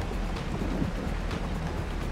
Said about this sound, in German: Und es regnet dann noch.